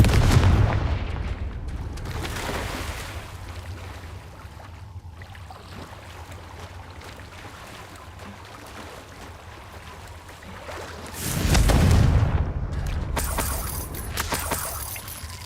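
A Confringo blasting spell in Hogwarts Legacy lands with a booming explosion, and a second loud burst follows about ten seconds later over a low game-world rumble.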